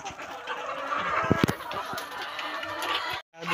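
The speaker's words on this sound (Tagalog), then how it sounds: "Mga manok guys." Chickens in a poultry house clucking steadily, several birds close by with a few sharper squawks, and a brief gap near the end.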